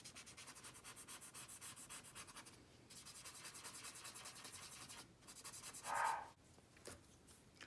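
Pencil shading on paper is rubbed and smudged for a fractured-value drawing, giving soft, quiet, repeated rubbing strokes close by, with a brief louder scrape near the end.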